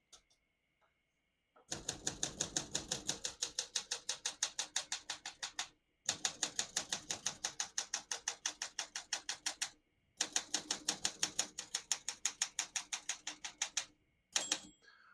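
Rapid, steady clacking of keys on a 1971 Olympia SM9 portable manual typewriter in three long bursts separated by short pauses, close and crisp, ending with a few scattered strokes.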